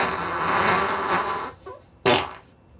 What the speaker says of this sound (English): Where else can you play fart sounds on the radio?